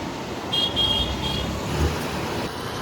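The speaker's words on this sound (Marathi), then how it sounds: "ही आमची गाडी आहे." A car sets off toward a river for a Holi picnic, its engine and road noise steady and moderately close, with a brief horn-like tone rising above the rumble.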